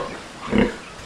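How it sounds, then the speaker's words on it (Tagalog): A pregnant pig on a farm gives a single short, close, low grunt in the middle of a brief moment, with faint background noise around it and no talking. "Halata na buntis na yung baboy natin."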